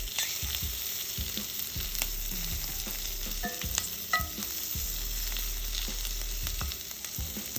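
Shrimp searing in a hot pan give a continuous close sizzle, with scattered pops and faint clinks of a utensil, steady and unbroken for the whole stretch.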